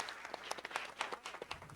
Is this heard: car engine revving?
no